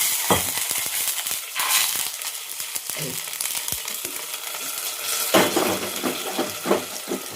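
Water splashes into a pan of tempered dal during home cooking, a sizzling, bubbling rush with stirring and utensil clinks across several seconds, moderately close.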